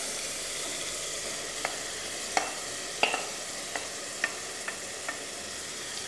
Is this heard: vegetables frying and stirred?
yes